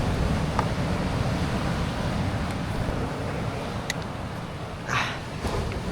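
Big ocean waves roll onto a beach in a steady, broad roar of surf, with a few faint clicks and splashes and no talking.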